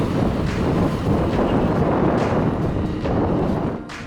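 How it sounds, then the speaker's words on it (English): Strong east wind gusting to 25 knots around the mountains at an anchorage off Rarotonga, Cook Islands, buffets the microphone in loud, roaring gusts that swell and ease, dropping off near the end. "The winds swirl around the mountains, and we are getting gusts of 25 knots from the east."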